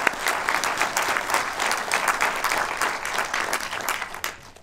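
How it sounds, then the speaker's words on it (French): An audience applauds a film director at a screening presentation, with loud, dense, continuous clapping throughout that fades slightly at the very end. "on peut vraiment applaudir très fort"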